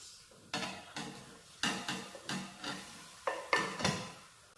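Ginger, tomatoes and onions are tipped into a pot of cooking mutton, a series of sharp metallic clanks and scrapes of a spoon against the pot, each followed by a brief sizzle, repeated about six times.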